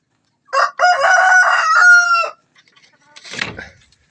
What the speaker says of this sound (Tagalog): Ito pa yung pang-apat nating labuyo, mga kabundok.